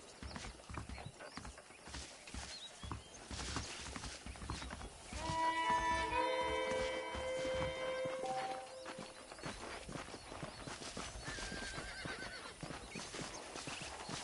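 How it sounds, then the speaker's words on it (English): Horses in the Red Dead Redemption video game clip-clop along at a walking pace, the hoofbeats faint and steady, with a clear neigh and whinny rising midway over a quiet outdoor background. "The horses are saddled up over here."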